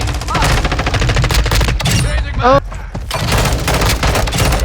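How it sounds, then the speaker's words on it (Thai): Rapid bursts of automatic gunfire from multiplayer combat in Call of Duty: Modern Warfare II, loud and dense, with repeated shots and a short pause in the middle. "นี่ นี่กระโดดยิง กระโดดยิง ปึ๊บนี่ตัดนี่"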